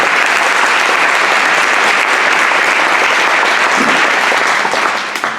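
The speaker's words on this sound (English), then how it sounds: "let's give him a round of applause." An audience at an evening community awards program applauds a business nominee with loud, dense, sustained clapping that holds steady throughout and tapers off slightly at the end.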